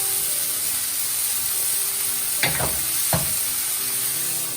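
Peas cook in a pan with chili and jeera powder, a steady soft sizzle and hiss throughout, broken by two brief scraping stirs near the end; no talking.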